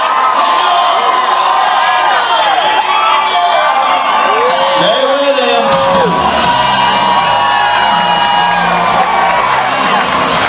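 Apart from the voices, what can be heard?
rodeo crowd cheering at stampede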